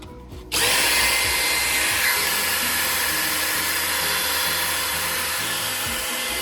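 After a brief quiet moment, an electric drill whirs up and runs continuously at a steady high pitch, loud and close, with no talking, while uniforming primer pockets on cartridge brass.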